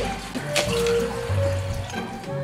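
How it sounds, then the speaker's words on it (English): Half a cup of water poured into a bowl of boxed cake mix, a short steady trickle and splash close by with no talk. "We're just gonna put half a cup of water and the other half cup, we're gonna use coconut milk."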